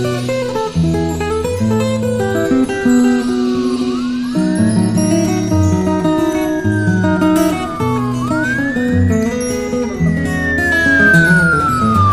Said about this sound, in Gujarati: આટલી બધી પોલીસની ગાડીઓ કેમ અહીંથી જાય છે